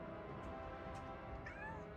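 A cat in the Starfield video game meows softly, with faint short mews repeating over a steady background hum.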